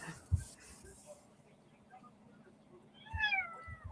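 A house cat gives one clear rising meow near the end, close and fairly quiet, after a soft thump and faint room noise.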